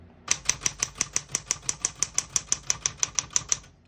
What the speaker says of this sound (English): As you can see, all the keys type nice and none of them skip or stick.